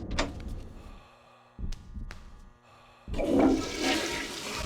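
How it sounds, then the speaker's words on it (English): A toilet in the video game The Suffering flushes with a loud rushing swell of water after a few soft clunks and thuds, the flush carrying on to the end with no talking. "Yep, you can still flush the toilets."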